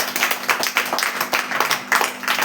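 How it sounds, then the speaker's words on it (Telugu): An audience claps at a seminar, a fast, ragged burst of many hands slapping together, fairly loud and continuous, with no voices. "Hari boll, give a big clap."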